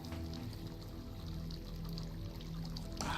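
Water flowing inside an asylum, a steady pouring trickle with splashy droplets over a low hum, continuous and fairly close, with a brief louder splash at the end.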